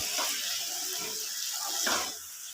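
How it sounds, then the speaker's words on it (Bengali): Water splashes into a bowl in a few short pours, close by in a home kitchen while potato curry with coriander leaves is being cooked. "সেই বাটিতে একটু জল দিয়ে দিলাম।"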